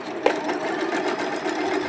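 A sewing machine runs steadily as it stitches fabric puff sleeves for a seven-year-old child's blouse, giving a close, continuous rapid whirring with no pauses.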